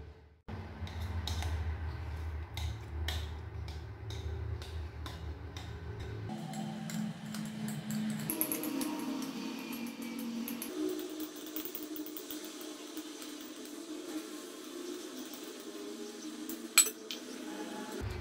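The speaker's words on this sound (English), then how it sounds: "we're going to add our cake mixture to the sufuria." Chocolate cake batter is scraped from a bowl into a lined sufuria, close clinks and scrapes of a utensil against metal and a steady rhythm of small taps and rubs, with no talking.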